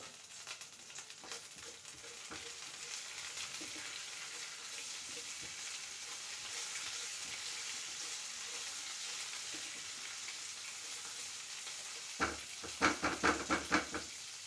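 Cumin seeds, fennel seeds and long-split green chilies fry in hot oil, giving a steady soft sizzle and hiss, then a burst of louder crackles and spitting near the end.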